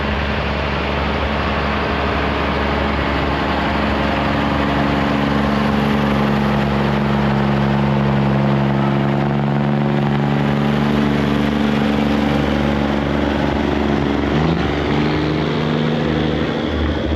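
Two Scammell heavy haulage trucks haul an engine trailer at a steam rally, their diesel engines giving a steady, loud, continuous drone with no break and no talk.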